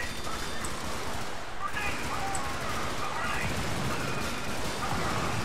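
Gunfire crackles in the top-down shooter Helldivers, a steady busy stream of shots and battle noise at moderate level, with voices talking over it.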